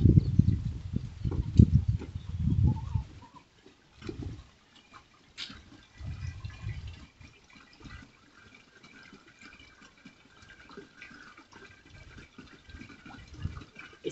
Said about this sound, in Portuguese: Aí agora eu vou só encher de água aqui para fazer o teste agora.